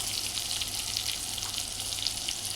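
Chopped tomato and onion sauté in a pan with a dense, continuous sizzle, loud and close, steady throughout with no talk.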